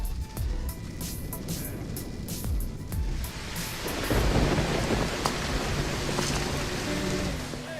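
Outdoor thunderstorm over muddy ground in Matambu, Costa Rica: a low rolling rumble of thunder fades into a dense, steady hiss of heavy rain that swells and stays loud, with no voices.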